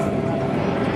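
A US Coast Guard MH-65 Dolphin helicopter flies past during an airshow demonstration, its engine and rotor making a steady, fairly loud broadband roar that fills the whole second.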